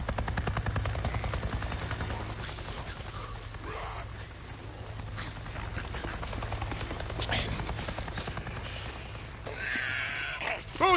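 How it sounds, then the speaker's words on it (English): A helicopter in the video game Days Gone drones steadily with a rapid rotor chop throughout, overlaid by busy game effects and a brief voice near the end. "I just saw a goddamn chopper!"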